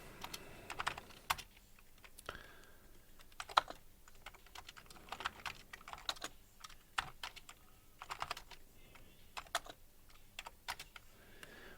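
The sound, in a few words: typing on computer keyboard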